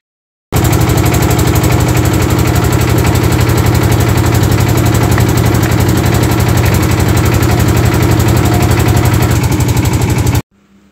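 A trawler boat engine runs loud and close, a steady rapid diesel chugging drone that starts abruptly and holds unbroken for about ten seconds before cutting off.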